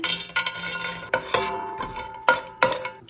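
A spoon stirs and scrapes cashews and raisins roasting in ghee in a pan, sharp metallic clinks every half second or so, under a faint sizzle of frying.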